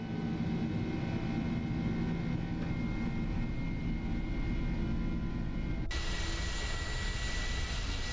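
Airbus A300F freighter jet taking off in the X-Plane 11 flight simulator, a steady loud engine roar holding throughout, shifting abruptly in tone partway through as the climb begins.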